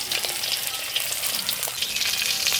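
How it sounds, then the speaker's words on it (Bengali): A hilsa fish head fries in hot oil with a close, continuous, crackling sizzle and no voices. "এই তেলে মাছের মাথাটা ভেজে নেব।"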